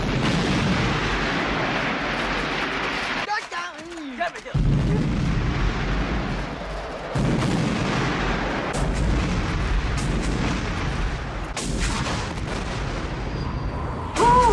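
Battle scene from the 1987 war film Hamburger Hill, with sustained loud gunfire and explosions that rumble almost continuously, broken by brief quieter gaps, with shouting voices underneath.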